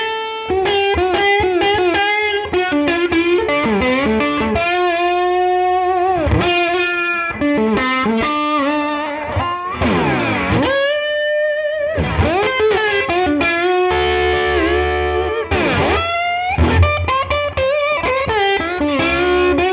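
Slide guitar played through a Neural DSP Tone King Imperial amp plugin set for a Super Reverb tone, with gliding, sustained notes and bluesy bends in close, loud phrases, alone without any talking.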